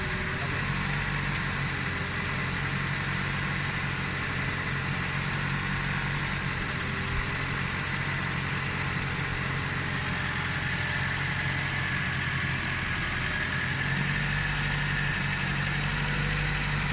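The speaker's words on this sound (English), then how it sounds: "This is a fast idle, which is about 12 to 1500 RPM." Nissan Micra K11 engine at fast idle, around 1200 to 1500 RPM, humming steadily and close with a constant low drone, under occasional talking nearby.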